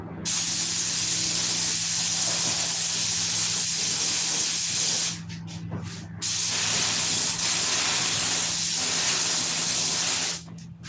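A compressor-fed paint sprayer hisses in two long, loud, continuous bursts, separated by a short pause and cut off sharply at each end, with no talking.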